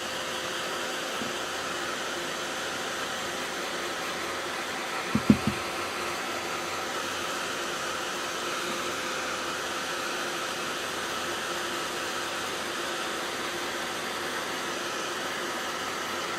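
A dryer blows air steadily over a handmade craft decoration with petals, a constant, even rush of airflow that runs the whole time, broken only by a brief soft knock partway through.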